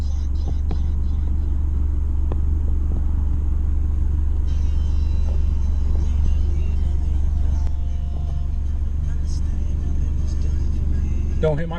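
An Aston Martin DB9 engine rumbles steadily nearby, a low continuous drone that holds for the whole stretch, with faint background noises and small clicks on top.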